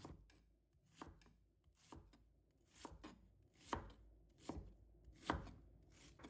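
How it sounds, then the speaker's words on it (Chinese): Half an onion cut into chunks with a knife on a board, about eight distinct chops in an uneven rhythm, close and fairly soft, with no speech. "接下来我们准备半个洋葱，把它切成块"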